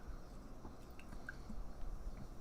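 Great Notion Jammy Pants, a strawberry and raspberry beer, pours into a glass: soft gurgling, splashing liquid with scattered drips and fizz, quiet and close, no talk.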